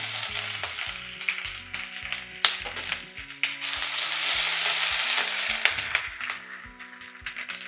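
Peppercorns, curry leaves and ginger frying in hot ghee for a ghee-rich tiffin pongal, giving a loud, steady sizzle and crackle with occasional sharp pops and the scrape of stirring, no voices.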